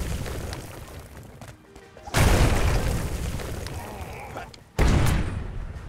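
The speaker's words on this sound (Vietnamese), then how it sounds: "Ủa phải kích nổ cái bình ga nó mở đường hết chứ." A gas canister blows up in the Jumanji Wild Adventures video game, with two loud sudden booming blasts a few seconds apart, each followed by a crackling roar that cuts off sharply.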